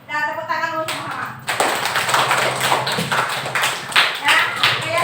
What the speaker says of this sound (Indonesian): Dan tepuk tangan dulu sama-sama.